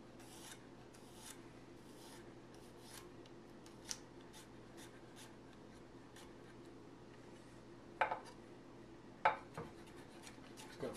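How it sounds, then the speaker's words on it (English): A knife minces a garlic clove on a cutting board, quiet scraping and soft rasping with a few sharper chopping taps near the end, close and faint over low room hum. "Just gonna mince it up like so."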